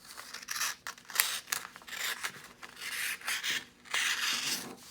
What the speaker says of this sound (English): Now we are going to chop off this edge of the paper to get our square.